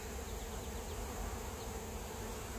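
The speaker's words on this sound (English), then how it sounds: "I'm gonna end up with a lot of bees on my suit." Honeybees buzz around a beekeeper pulling honey from the hive, a dense continuous drone close by, with no talk.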